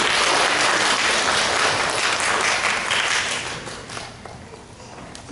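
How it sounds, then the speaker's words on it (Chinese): Warm applause from the audience at the 2015 Asia Cup International Music Competition award ceremony, thick and loud at first, then thinning and fading toward the end. "大家给予热烈的掌声"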